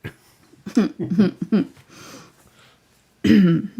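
A few short, throaty coughs in quick succession, then a pause and one more harsh cough-like burst, close to the listener.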